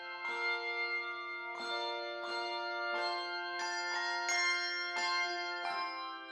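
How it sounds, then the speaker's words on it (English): Handbells ring out carol melodies in a chapel, a bell choir striking sustained, shimmering chimes in a steady succession of clear tones with no voices. "singing carols with a bell choir in the chapel"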